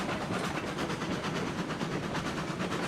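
A slow locomotive running in the game RailRoads Online, with a steady rumbling roll and a rhythmic clickety-clack from the wheels, moderately loud and heard with no voices.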